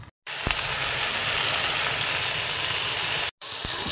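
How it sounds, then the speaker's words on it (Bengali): Food sizzles and fries steadily in a pan while being stirred, a dense continuous crackle with a couple of brief cutoffs, setting up for a mustard hilsa dish with white and black mustard, ginger paste, onion paste and chilies. "এটাকে নাড়তে থাকবো।"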